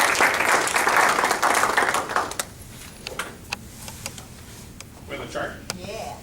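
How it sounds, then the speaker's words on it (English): A room full of people applauds Joe with dense clapping for about two seconds, which then thins into scattered claps, small knocks and murmured talk. "Okay, a round of applause for Joe."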